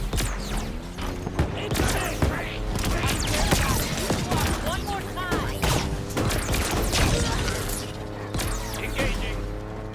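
Bursts of gunfire during a firefight in the Halo Infinite mission The Tower, heard as rapid shots and impacts over a dense bed of game sound effects and music, with voices talking throughout.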